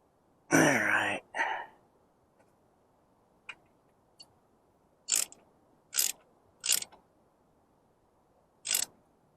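A wrench snugging the cylinder head bolts on a 1983 Harley-Davidson Shovelhead, with several short, sharp ratcheting clicks spaced apart, following a brief burst of voice at the start.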